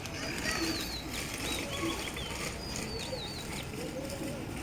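Pigeons at a Bangladeshi pigeon dealer's loft coo in soft, repeated low calls with scattered chirps above, set against steady background noise and faint voices.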